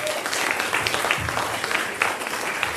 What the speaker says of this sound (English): Round of applause to Gemma, please.